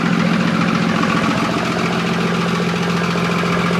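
A Fiat-Allis machine's engine runs steadily outside a shop, a loud, close, continuous idle with a deep rumble and a faint knocking rhythm throughout.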